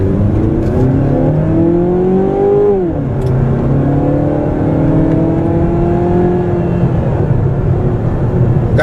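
A 2014 Mazda 6 with a small engine accelerates on the road, its revs climbing through a gear, dropping at a shift, then rising again under steady road and wind noise, loud and continuous.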